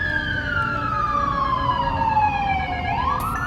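A siren wails outside, its tone sliding steadily downward over several seconds before sweeping back up, fairly loud over a constant background rumble of traffic.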